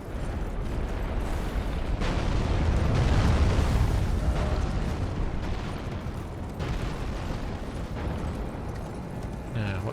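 Heavy crashing and booming of falling rocks in Elden Ring: Shadow of the Erdtree on a mountainside, a loud rolling rumble that swells mid-clip with scattered impacts, while a voice talks over it.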